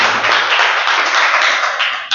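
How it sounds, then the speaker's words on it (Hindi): Applause from a crowd cheering for a student named Ramdayal at a technical institute, steady loud clapping that lasts throughout with no pause. "जोरदार ताली रामदयाल के लिए।"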